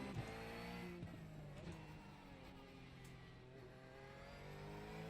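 A Porsche 911 GT3 R race car in a racing video game, driven on a steering-wheel setup, holds a steady high engine drone with shifting revs and faint tire noise throughout, continuous and fairly loud without speech.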